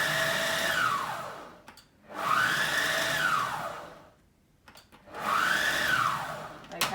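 A food processor pulsing pastry dough made with butter and vinegar, three loud whirring bursts, each spinning up and winding down, separated by brief pauses.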